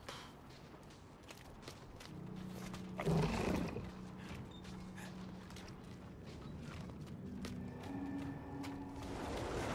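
A horse in the Diablo IV video game gives a prominent whinny midway through, with hoof clip-clops and ambient game sounds and music before and after. No voices are present.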